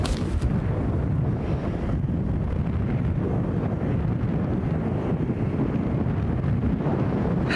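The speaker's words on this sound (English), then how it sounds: "the wind is coming this way and it's coming hard" Strong wind blowing hard across an open golf course, a continuous loud roar buffeting the microphone with steady low gusts throughout and no talking.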